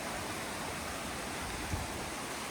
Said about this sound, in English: There's like a little waterfall over there.